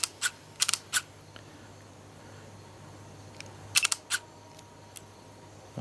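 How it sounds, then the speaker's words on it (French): A camera shutter fires in a quiet room inside a house, sharp clicks in two bursts of several rapid shots each, near and crisp against faint background hum. "Bon, je prends une photo."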